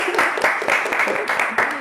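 A short burst of applause for the students at a school chat session, rhythmic hand claps close by with possible voices mixed in.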